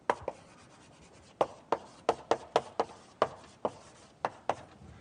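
Chalk or marker writing on a board during a maths lecture: irregular sharp taps and short scratchy strokes, fairly close and clear, with a quiet room between strokes and no talking.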